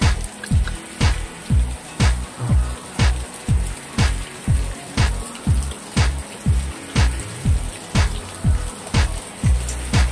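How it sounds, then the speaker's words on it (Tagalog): Heavy, steady rain hisses close by during a long spell of rainy, windy weather, with a regular rhythmic thumping beating under the downpour about twice a second. "Grabe ang ulan na to guys."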